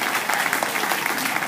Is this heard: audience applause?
yes